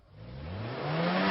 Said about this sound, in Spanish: ¿Qué pasa con su cuerpo al escuchar un frenazo y usted está en una moto?